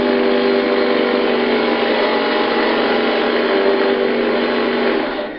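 A rock drill bores steadily into rock at a climbing anchor site, a continuous close, loud high-pitched whine and grind holding evenly throughout, easing slightly at the very end with no talking.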